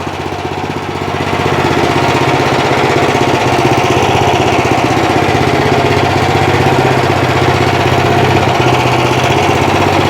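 A walk-behind tractor engine rises from idle to a steady, loud, high rev, with a rapid chugging vibration held for several seconds close by.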